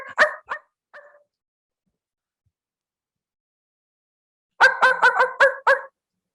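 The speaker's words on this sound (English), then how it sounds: "Bark, bark, bark, bark." A dog barks close and loud, first a quick burst of three or four barks, then a few seconds of silence, then a rapid run of about seven sharp barks.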